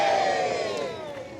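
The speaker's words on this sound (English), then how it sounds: "The crowd are in very good cheer." A crowd cheering at a toy car race start line, a broad roar of many voices with whoops rising near the beginning, then gradually easing down over the brief moment.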